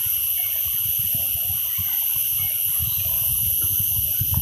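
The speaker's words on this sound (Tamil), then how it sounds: "இந்த சின்ன ஆறில் தண்ணி போகிற சத்தம்." A small river flows through a forest, giving a steady, close wash of running water with gurgling low splashes throughout.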